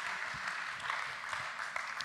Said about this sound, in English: Can we just give our leaders a clap?